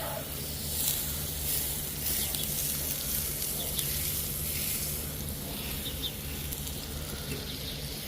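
Butter sizzles steadily on a hot Blackstone flat-top griddle, a continuous close frying hiss at even loudness with no talking.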